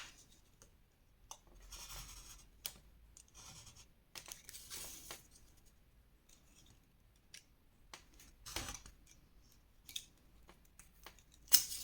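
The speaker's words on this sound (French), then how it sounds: "Et sur les lignes que vous venez de tracer, vous allez couper." Scissors snip through paper along drawn lines while crafting a Harry Potter pop-up scrapbook album page, giving close, crisp cutting bursts with short pauses between strokes over a quiet room.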